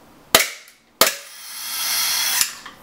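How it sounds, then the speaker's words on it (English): A KWA G19 airsoft pistol fires loud, sharp cracks, followed by a long breathy hiss of gas venting from the magazine, then another sharp crack; close and loud, no talk. "That's obviously the gas escaping from the mag."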